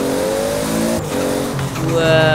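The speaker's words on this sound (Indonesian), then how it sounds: "Ada backfire-nya juga ini guys, mobilnya." A Toyota Supra engine in Forza Horizon revs hard as it climbs through gears on a mountain road, with a brief pop in the exhaust, loud and close while a man briefly exclaims.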